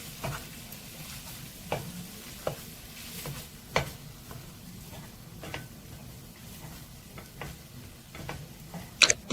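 Cold cooked rice is stir-fried in a wok with a metal spatula, breaking up clumps: repeated sharp taps and scrapes of the spatula land irregularly over a soft, low sizzle, growing busier toward the end.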